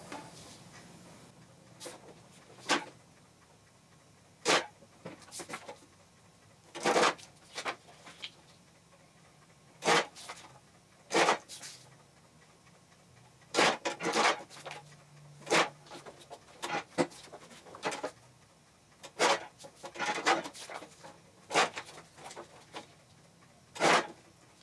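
Inkjet heat transfer prints on paper are cut, giving a long series of short crisp cutting noises. They come in irregular bursts and clusters close by, with quiet gaps between them.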